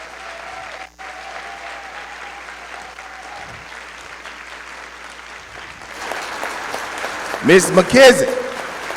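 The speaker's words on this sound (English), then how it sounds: "Let's give her another big round of applause." Large school-district audience applauding loudly at a State of the District ceremony, the clapping swelling near the end after a brief spoken name, with a voice over a PA heard first.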